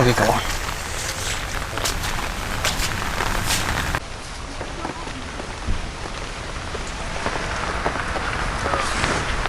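Heavy rain pours down in a dense, continuous hiss, drumming on surfaces close by, with voices faintly audible underneath.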